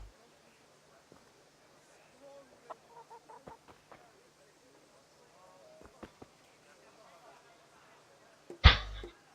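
Hens cluck intermittently in a medieval village scene of the video game Kingdom Come Deliverance, short soft clucks scattered over the clip, followed by a loud close thump near the end.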